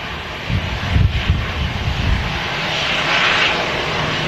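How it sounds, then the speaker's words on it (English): A Jet2 air tanker aircraft arriving at Manchester Airport produces a rumbling engine roar with low thumping gusts early on, then settles into a smoother, steady whine at moderate distance. "The Jet2 air tanker delivery into Manchester, where it's going to stay here for the next few months"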